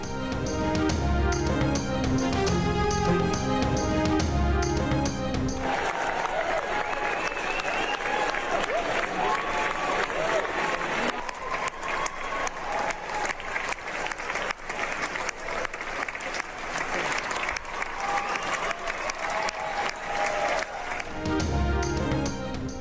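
Sustained applause from an audience at the end of a drama at London's Royal Opera House, dense and loud clapping rolling on for many seconds, with music before and after.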